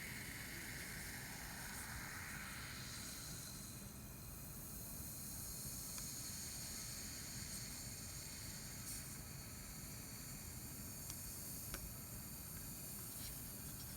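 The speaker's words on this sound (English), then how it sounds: "And I'm going to add the salt. And that one fizzes even more." Steady hiss of soda fizzing as salt is slowly poured in during a molarity lab, a faint, continuous bubbling texture with no breaks and no talking.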